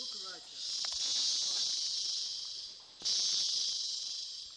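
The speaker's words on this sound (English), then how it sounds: "Here's cicadas, how loud they are." Cicadas in the Belize jungle, a loud, continuous high-pitched buzzing drone that briefly drops away and then surges back, with faint rustling and jungle sounds underneath.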